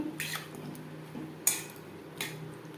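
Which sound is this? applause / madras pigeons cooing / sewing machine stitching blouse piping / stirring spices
stirring spices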